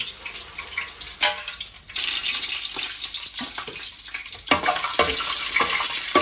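Cumin and spices frying in a pan for Arabian-style chicken biryani, a steady close sizzle broken by sharp clinks and stirring knocks, with water-like hiss throughout.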